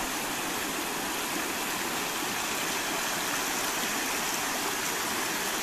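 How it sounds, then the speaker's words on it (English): Water pours steadily over a leaking beaver dam along a springtime waterway, a constant broadband rushing and splashing close by with no pauses. "I just love the sound of the water."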